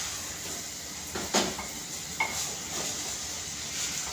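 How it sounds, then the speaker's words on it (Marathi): Vegetable pulao rice being stirred in a pan after ghee is added, a soft steady sizzle with scraping strokes of a spoon and a couple of sharper clinks against the metal, close by. "आपल्याला हे असं चांगलं हलवायचं आहे."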